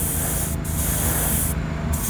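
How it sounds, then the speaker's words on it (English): A steady close hiss of an airbrush or spray gun spraying pink paint onto a Hot Wheels 1971 Datsun 510 body, with two brief pauses, no talking. "Give it a test spray."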